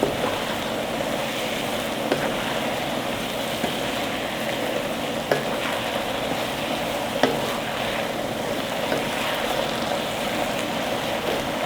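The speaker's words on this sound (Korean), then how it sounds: "그렇게 다 넣어서 뒤적뒤적 해줄게요" Eggplant stir-fries in a pan with seasoning and sugar, a steady close sizzle broken by occasional soft scrapes and taps of the utensil as it is tossed.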